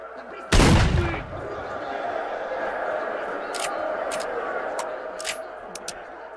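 A single loud gunshot from an arena shooter game bursts out near the start and rings off, followed by quieter game ambience with faint clicks, under ongoing talk.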